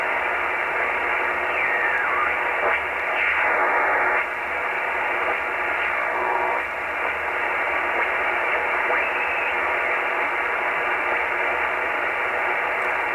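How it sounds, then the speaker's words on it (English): Shortwave radio tuned to the WWV Colorado time-signal frequency in the 2 to 4 MHz range: a steady hiss of static and band noise with faint warbling tones drifting through, fairly quiet and continuous. "This is a WWV Colorado frequency."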